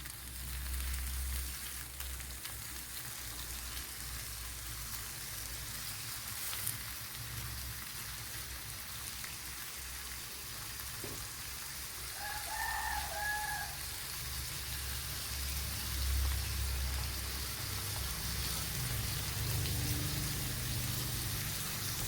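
Prawns fry in oil with curry leaves in a pan, giving a steady, rain-like sizzle and crackle that stays constant and fairly close throughout.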